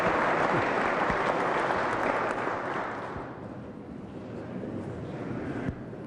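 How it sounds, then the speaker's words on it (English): Loud, dense applause from a large crowd at the 2023 State of the State Address, holding strong before easing to a softer patter that lingers to the end. "Y'all got to settle down on the clapping"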